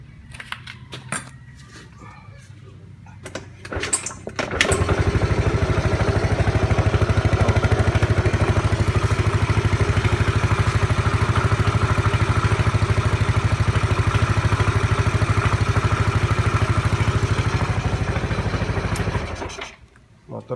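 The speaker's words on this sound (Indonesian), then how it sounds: "Motor sudah hidup." A Yamaha Mio scooter engine with a newly replaced CDI starts after a few quiet seconds, then idles steadily and loudly at close range for about fifteen seconds before cutting off. Scattered clatter precedes the start.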